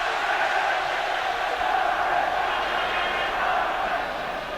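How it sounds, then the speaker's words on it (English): A dense, steady roar from a football stadium crowd at AZ Alkmaar against Ipswich in the 1981 UEFA Cup Final second leg, sustained and fairly loud throughout with no distinct breaks. "the crowd now appreciating what they've achieved tonight"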